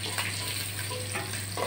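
Eggs fry in hot oil for an egg curry, giving a brief steady sizzle and hiss close by, with a low hum underneath and no voices.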